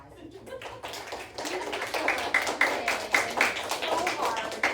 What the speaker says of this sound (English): will yeah. you please give your teacher a round of applause?